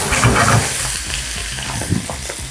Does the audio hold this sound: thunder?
no